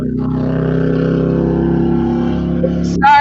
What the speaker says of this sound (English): That was a motorcycle.